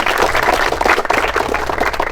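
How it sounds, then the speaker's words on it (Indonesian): Children at a training barracks in Purwakarta clap their hands on cue, a loud, dense, steady burst of many hands filling the whole moment without talk. "Tepuk tangan ya."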